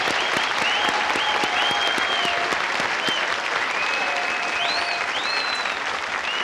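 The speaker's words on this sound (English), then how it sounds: "You may applaud yourselves" A 1972 game show studio audience applauds continuously and fairly loudly, a thick wash of clapping with a few sharp claps and occasional whoops or calls rising above it.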